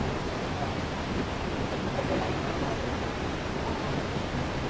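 Lower Falls waterfall in the Grand Canyon of the Yellowstone, heard as a steady, dense roar of falling water that holds level throughout, with no voices.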